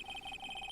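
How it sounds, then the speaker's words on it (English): A brief electronic phone ringtone from the Phoenix Wright: Ace Attorney video game plays as a rapid, evenly pulsing trill of bright beeps, close and clear. "I heard a phone ring just now. One of those new-fangled ringtones."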